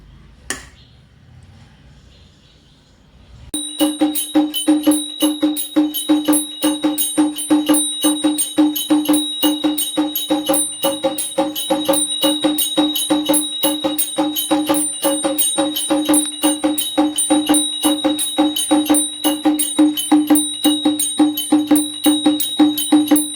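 Brass hand bell rung during Hindu home worship (puja) in a Gujarati household: a fast, continuous ringing that starts after a few quiet seconds and carries on steadily, loud and close, to the end.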